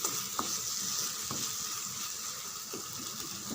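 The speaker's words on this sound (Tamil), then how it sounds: "ஒரு 2 நிமிஷம் நல்லா வதங்கட்டும்." A constant, bright sizzle of onions and tomato frying in hot oil, with a few soft stirring clicks; no one speaks.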